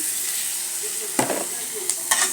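Eggs drop into a hot pan and fry with a bright steady sizzle, punctuated by a couple of sharp spattering bursts and stirring sounds close by.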